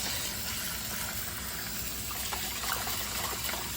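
Rice is swished and rinsed by hand in water inside a rice cooker pot, giving a constant close wash of sloshing, trickling water with no voices.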